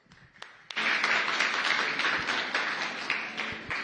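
At a NASA Hyperwall talk at COP 28, an audience gives a welcoming round of applause for a speaker. The steady clapping starts abruptly after a brief quiet moment and continues evenly, moderately distant and soft.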